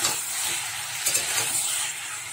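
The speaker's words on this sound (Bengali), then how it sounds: "ভালো করে নেড়ে চেড়ে নিচ্ছি, পটল আলু দিয়ে মশলা দিয়ে ভালো করে কষিয়ে নিচ্ছি।" Pointed gourd and potato with spices are stirred in a frying pan, giving a constant bright sizzle with a few soft scraping stirs, close and even, no voices.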